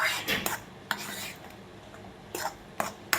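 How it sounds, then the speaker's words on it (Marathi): Semolina cooked with mango pulp over medium heat and stirred continually, a spoon scraping and clinking against the pan in uneven strokes, separated by a soft low sizzle. "तोपर्यंत असा सतत ढवळत राहायचं आहे"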